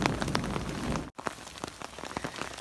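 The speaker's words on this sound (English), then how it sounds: "the rain hasn't stopped, and it's just getting continually worse" Heavy rain pattering on a campsite tarp in a worsening downpour, dense close drumming drops with a brief sudden break midway, then lighter scattered hits, with no voices.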